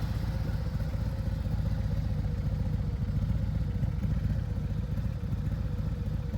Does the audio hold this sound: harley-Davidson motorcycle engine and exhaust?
yes